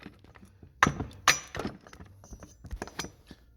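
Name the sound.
hitting Craftsman chainsaw crankshaft to pop off flywheel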